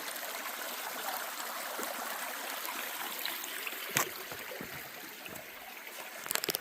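Creek water runs steadily over bedrock and gravel bars, a continuous close rushing and trickling wash with no break, with a couple of brief splashy knocks near the end.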